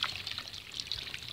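Pure spring water pours steadily in a continuous trickling splash, close and fairly loud, with no talk over it.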